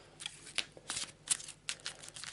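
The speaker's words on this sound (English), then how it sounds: "My patented rubbish shuffling." A deck of Arkham Horror: The Dunwich Horror game cards is shuffled by hand at close range, making quiet, irregular papery riffles and crisp flicks in several short bursts, with no talking.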